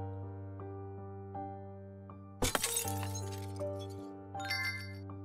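A sudden crash of glass shattering breaks over a sustained musical drone in the game Children of Silentown, followed by scattered tinkling shards and a second brief clatter.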